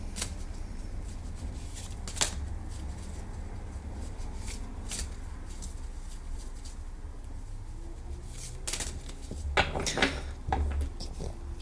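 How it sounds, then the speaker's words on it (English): Tarot cards shuffled by hand, a soft continuous riffling with crisp slaps and snaps of cards scattered throughout, close and quiet, with low background hum underneath. "I shuffle until Spirit says stop."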